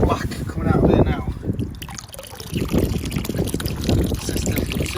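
Dirty black water flushes out of a Viessmann boiler heating system, trickling and splashing steadily and fairly close while someone talks over it.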